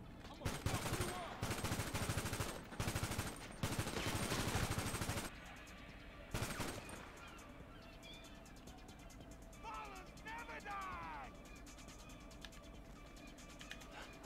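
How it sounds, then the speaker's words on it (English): Bursts of rapid automatic gunfire in GTA 5 roleplay ring out loud and close for several seconds, then a final shot cracks before things drop to a quieter background with faint voices and scattered noises. "Where are those shots coming from?"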